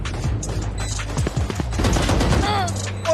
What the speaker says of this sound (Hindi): दोनों तरफ से गोलियां चल रही है